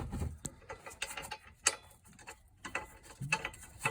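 A ratchet tightens trailer hitch bolts on a 2014-2020 Mitsubishi Outlander, giving quick, irregular bursts of clicking pawl ticks and metallic rattles, close and moderately loud.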